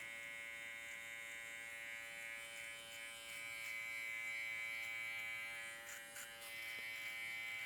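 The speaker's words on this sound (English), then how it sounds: "Again, using that corner of my clipper." An electric hair clipper buzzes continuously while trimming a beard during a taper haircut, a close, steady whine with brief dips and scraping touches as the blade corner works the hair.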